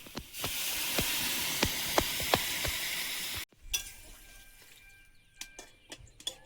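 Water goes into a hot cooking pan of spices with ground coriander, raising a loud, steady sizzle and hiss with a few sharp stirring clicks; then it cuts off abruptly and only faint scattered taps remain.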